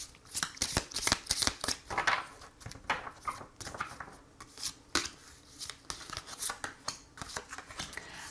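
A deck of oracle cards is shuffled and drawn by hand: a steady run of close, crisp riffling and sliding flicks, with a few sharper snaps as cards are pulled. There is no speech.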